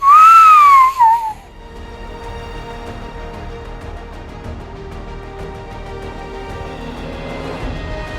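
A loud, clear human wolf whistle, a rising then falling tone, sounds once at the start and breaks off after about a second, followed by quiet background.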